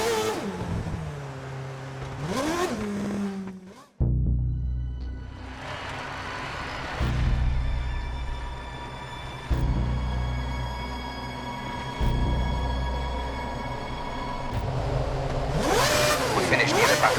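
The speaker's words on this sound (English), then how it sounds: "Get the car off the jacks and start the engine." A Formula 1 race car engine in the F1 2010 video game at the Monaco Grand Prix fires up after a short silence and idles with a loud, steady drone, pulsing in a few revving surges under occasional radio speech.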